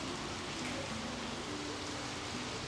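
Steady rain falls across an outdoor market in Vanuatu, a dense, even hiss of drops with no clear pauses, close and moderately loud throughout.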